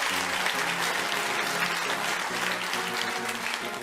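An audience claps loudly and continuously, a dense, even wash of applause from a crowd that lasts the whole stretch.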